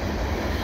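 A CN fast mixed freight train with ES44 locomotives passes at Valois in autumn, giving a brief, loud, close rumble of rolling wheels and cars.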